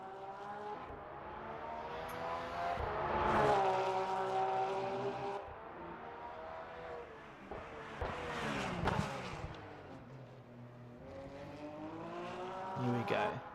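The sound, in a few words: Porsche race car engine in a racing video game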